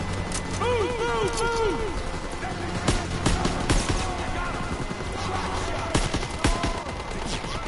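Rapid bursts of gunfire in the video game Call of Duty: WWII crack repeatedly, some in quick automatic strings, with voices talking underneath throughout.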